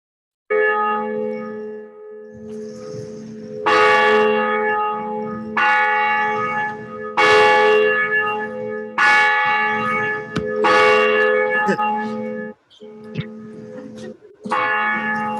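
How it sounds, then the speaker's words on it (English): Church bells rung in a tower during a service, loud, repeated bell strikes in bursts across the whole stretch, with rich ringing overtones and short pauses between peals. "We turn now to Jen in our bell tower, who is just about ready to ring our bells."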